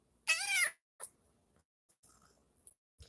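A pet cat lets out one loud, clear meow close by, and a few faint soft sounds follow in a mostly quiet room.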